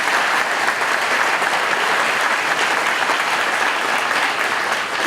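Audience clapping steadily at an evening gathering in support of Eastern Christians, a dense, even wash of many hands lasting throughout, fairly loud and close with no speech over it.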